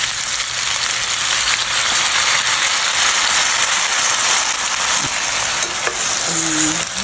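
Chicken feet sizzle loudly and continuously in a pan with soy sauce, a dense, steady frying hiss with occasional stirring clinks and no talking.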